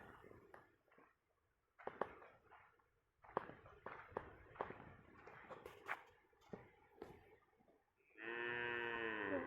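Scattered thumps and footsteps shuffle around a cattle shed on a coconut farm, then a cow lets out a long, loud moo near the end.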